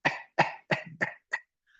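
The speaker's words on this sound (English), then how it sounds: "So we finish off a whole breath, coughing like this." Five short, forceful coughs in a quick, even series, close up, trailing off into silence.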